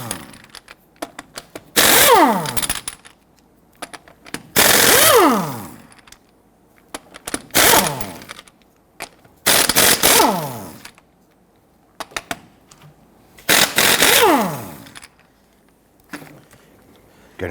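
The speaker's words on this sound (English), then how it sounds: "Using a 19mm socket, I'm going to go ahead and loosen and remove our lug nuts." On a 2006-2010 Hummer H3, an impact wrench fitted with a 19mm socket rattles off the lug nuts in five sharp bursts, each winding down quickly, with brief quiet gaps in between.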